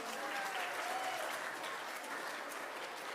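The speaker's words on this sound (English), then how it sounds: "how about a nice round of applause for the person who helps put the whole thing together" An audience at a Kabbalat Shabbat service gives a sustained, fairly soft round of applause, an even wash of many hands clapping with a faint voice briefly showing through.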